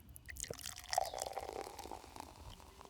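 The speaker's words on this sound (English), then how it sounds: "Look at that pour." Raspberry beer poured into a glass, a steady bubbling, splashing liquid stream heard close up for a few seconds, with faint handling sounds and no speech.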